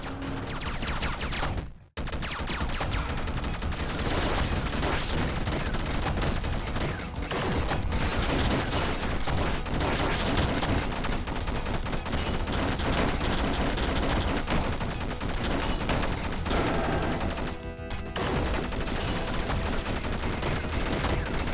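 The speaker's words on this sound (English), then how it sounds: "Those triple shots are hell to avoid." Rapid triple-shot gunfire from a boss fight in the roguelike video game Downwell, a steady loud barrage of clicking bursts running almost unbroken, with two brief drops to silence.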